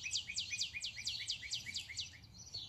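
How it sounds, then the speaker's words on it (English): A bird sings a rapid series of bright, repeated chirps in the morning outdoors, about a dozen in quick rhythm, clear against a quiet background. "enjoy the beautiful sound of the birds this morning"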